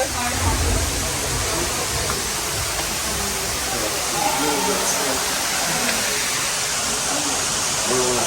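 Steady broadband rush of water cascading down a slick waterfall at Chichen Itza in Yucatan, Mexico, heard up close and continuous, with footsteps and faint voices mixed in.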